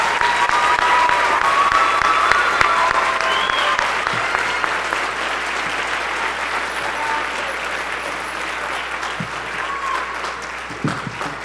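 A school band concert audience applauds the students, sustained clapping from a large crowd filling the hall at a steady level that slowly tapers.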